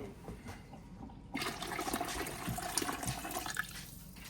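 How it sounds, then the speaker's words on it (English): Water suddenly starts pouring and splashing steadily into a pressure canner, a close, continuous rushing sound after a quiet moment. "I'm going to add a little bit of water"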